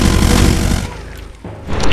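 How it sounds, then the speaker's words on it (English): A rocket launcher in the Doom video game with a brutal mod fires a loud, heavy blast. The boom fills the first second, then thins into a fading rumble with a smaller thump near the end. "I love the rocket launcher."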